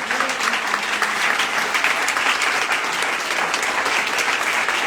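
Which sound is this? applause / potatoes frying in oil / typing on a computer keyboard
applause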